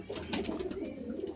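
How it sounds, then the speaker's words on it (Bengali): A pair of yellow-eyed Kaldum Madrasi pigeons, one male and one female, give soft, low, repeated coos, close and quiet, with no talking. "দেখতে পাচ্ছেন দুটো পায়রা, হলুদ চোখের পায়রা দুটোই"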